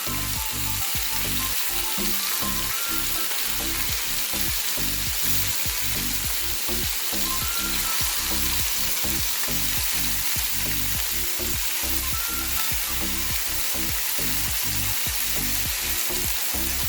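Loud, constant sizzling of chicken frying in a hot pan, with rhythmic scraping as the pieces are stirred and turned.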